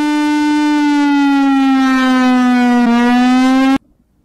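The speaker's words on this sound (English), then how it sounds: "Lion King Defender Siren." A loud, steady civil defense siren, the Lion King Defender model, holds one rich wailing tone close by, its pitch sagging slightly and then recovering before it cuts off abruptly into near silence.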